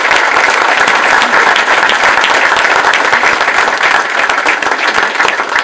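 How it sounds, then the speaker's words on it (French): Sustained loud applause from an indoor audience at a 2019 New Year's address, dense clapping filling the room without pause for several seconds. "Je vous demande d'applaudir Hélène Colombier pour son engagement."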